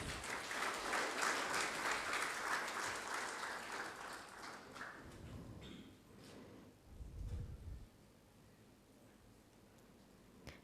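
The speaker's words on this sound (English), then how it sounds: "A big round of applause, please" Audience applause at a CMA Sri Lanka budget analysis event, a steady crowd of clapping that runs for about five seconds and then fades out, leaving quieter room noise and a few low thumps.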